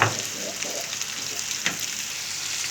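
Eggs and sausage frying in a pan, a steady, fairly loud sizzle and crackle throughout with a few soft stirring knocks, heard alone without talk.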